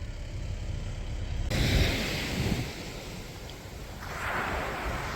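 Ocean surf breaking on a beach near a river mouth, a soft continuous rushing wash that swells in two gentle surges, with wind buffeting the microphone. Fairly quiet, no talking.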